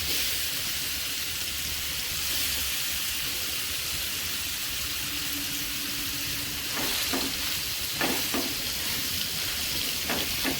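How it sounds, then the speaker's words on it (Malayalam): A pineapple snack fries in hot coconut oil, giving a loud, continuous sizzle, with a few sharp utensil clatters toward the end. "വെളിച്ചെണ്ണ ചൂടായി വന്നപ്പം നമ്മൾ ഇത് ഓരോന്ന് പറക്കിയിട്ട് നമുക്കൊന്ന് വറുത്തെടുക്കാം"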